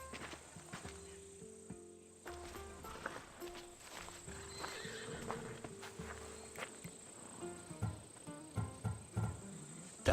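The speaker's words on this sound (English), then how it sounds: "Fine, but I'm taking a horse." A horse in the Assassin's Creed Odyssey video game, with hooves clip-clopping on the ground and a whinny among ambient insect chirps, the hoofbeats growing louder toward the end.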